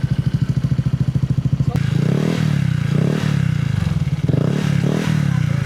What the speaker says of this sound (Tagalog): Yung sound check natin para dito sa pipe na to.